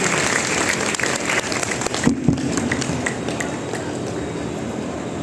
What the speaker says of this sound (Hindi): इधर के लोग भी पीछे के लोग भी जोरदार तालियां बजाइए